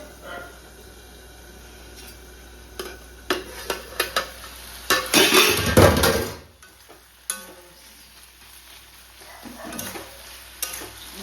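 Poppy seed paste with a small green chili sautéing in a pan: a soft sizzle under scattered spoon clinks and scrapes, with a louder burst of stirring midway before it settles back to gentle frying.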